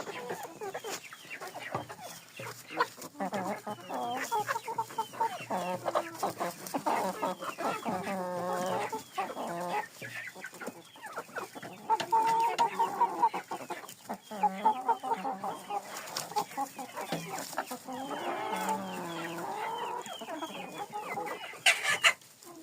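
Silkie hens clucking steadily close by, a busy flock with overlapping calls and occasional louder squawks throughout.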